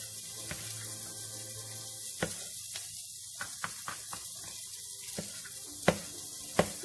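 Sausage and sliced mushrooms frying in a pan for bigos, a steady soft sizzle with occasional sharp clicks and pops from stirring, close and alone without talk.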